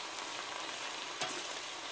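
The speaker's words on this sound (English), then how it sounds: "basically I'm cooking the greens on high heat for a few minutes" Leafy greens sizzle steadily over high heat in a pan, a faint, continuous crackling hiss with one brief louder pop of spatter.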